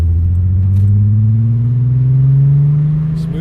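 A 2002 Volkswagen Golf VR6 with a 2.8-litre engine and nearly 200,000 miles runs smoothly close by, a steady low hum whose pitch creeps gradually upward as the revs rise slightly.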